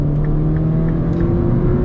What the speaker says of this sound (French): on a l'échappement qui commence à chauffer et à pétarader